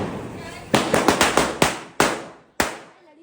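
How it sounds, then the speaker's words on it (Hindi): Diwali firecrackers burst in a quick series of sharp, loud bangs, about eight in all, spaced unevenly and echoing outdoors, with faint voices in between. "आज नए नए जुगाड़ से हम बम फोड़ के दिखाएंगे आपको"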